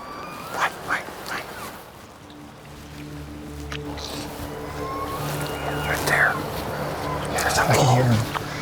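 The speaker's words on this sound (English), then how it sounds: "I can hear him. That bull's close." During a hunt, a bull calls close by, a low drawn-out bellowing tone with rising squeals near the end, heard over outdoor ambience, scattered knocks and rustling.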